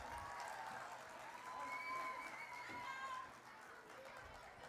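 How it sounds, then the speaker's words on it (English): An audience at a corporate Azadi Ka Amrit Mahotsav celebration applauds after a performance. The clapping is faint and distant, with crowd chatter and a few whistle-like tones mixed in, and it fades slightly near the end. "They really deserve a big round of applause once again"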